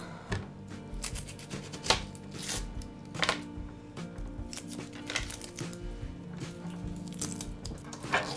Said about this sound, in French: Hop, je vais éplucher les oignons.